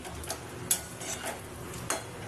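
Pakoras fry in bhetki fish oil with a soft, steady crackle and sizzle, punctuated by a couple of sharp clinks from a utensil stirring the pan.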